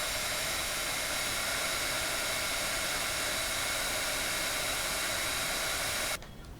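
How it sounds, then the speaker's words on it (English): A heat gun blows hot air over embossing powder with a loud, steady whooshing roar that runs unbroken for about six seconds, then cuts off abruptly near the end. "grab my heat gun. And I'm going to go ahead and heat it up"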